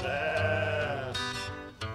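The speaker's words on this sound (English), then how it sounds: "We have hungry sheep and hay to feed." Sheep bleating on a farm, with several wavering, harmonic calls overlapping continuously at close range, one louder bleat rising near the end.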